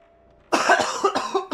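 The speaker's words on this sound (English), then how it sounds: "I thought I'd gotten most of the coughing out." Several harsh coughs burst out one after another, loud and close, after a short quiet start, with brief gaps between the hacking bursts.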